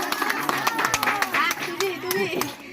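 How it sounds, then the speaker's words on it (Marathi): People clapping during a Marathi haldi-removal wedding ritual at home, a string of sharp, fairly rhythmic claps beneath a voice and other chatter. "टाळ्या वाजवा."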